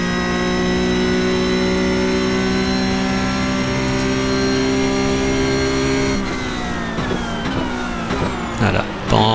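A Porsche Cup race car at Road America in the iRacing sim, a loud sustained high-revving engine drone with strong whining harmonics that drops off and turns choppy with downshifts near the end.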